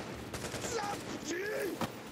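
Rapid gunfire bursts in a video game crackle through the whole stretch, mixed with game sounds and a voice speaking over the shooting.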